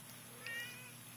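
A cat gives a single short, faint meow outdoors on a nice day, heard briefly over quiet background noise.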